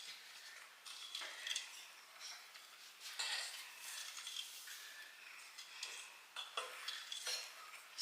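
A utensil stirs brownie batter with eggs in a bowl, making quiet, rapid scraping and ticking clinks in uneven bursts, close but faint, with no voices.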